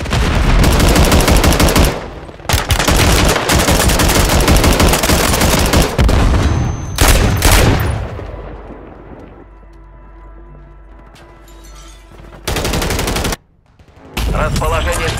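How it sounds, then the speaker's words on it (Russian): Dense automatic gunfire rips through a Call of Duty Warzone 3 match, loud and close in long sustained bursts, broken by brief pauses and a quieter stretch of distant rumble before firing resumes. "По мне стреляют!"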